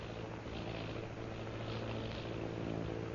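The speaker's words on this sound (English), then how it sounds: "Sounding like airplane." A faint, steady engine drone of an airplane flying overhead, a low continuous hum with no talking.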